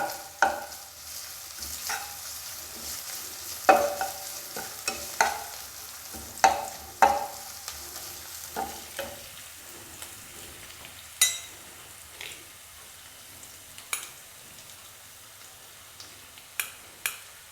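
A ground paste of ginger, garlic, coconut and a little coriander goes into a hot pan, giving a low, soft sizzle under scattered scrapes and taps of a spoon over a long, quiet stretch.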